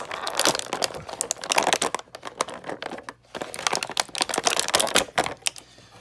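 Stiff plastic packaging crinkles and crackles as a Marvel Legends Infinity War action figure is unwrapped, with close, busy bursts of crumpling and snapping that pause briefly midway.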